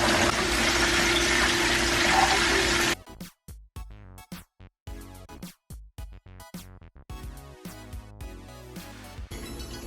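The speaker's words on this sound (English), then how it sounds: "Oxtail bubbling, beautiful." A steady, loud bubbling and hissing of Jamaican oxtail stew in a pot for a few seconds, then gives way to music.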